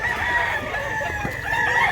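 A gamefowl rooster on a farm in Mantalungon, Cebu, crows loudly and nearby in a single drawn-out call over a noisy outdoor background, with no talking.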